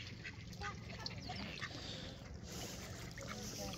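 Ducks quacking at a seaside holiday resort in Skegness, Lincolnshire, heard within a dense, continuous wash of crowd noise, wind and water.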